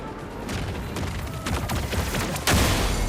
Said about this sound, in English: He's going to do the explosion.